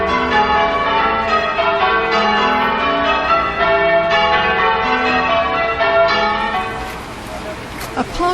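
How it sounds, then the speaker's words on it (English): A peal of ten church bells rung in Burnley after a dedication service, a dense, loud, continuous cascade of overlapping chimes that thins slightly near the end. "the bells were upturned, to be rung after the dedication service the following day"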